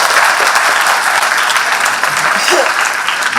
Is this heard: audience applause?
yes